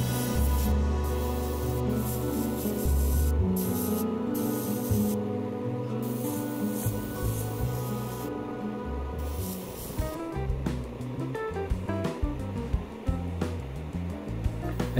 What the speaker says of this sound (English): I sprayed two thin layers of blue over the pieces.